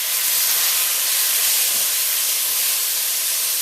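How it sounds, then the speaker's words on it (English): Seasoned pork going into a hot pot for stewed pork and breadfruit in coconut milk, a loud, continuous broadband sizzling hiss that holds steady for several seconds, close and without speech. "it's going to get loud, I'm going to add the seasoned pork"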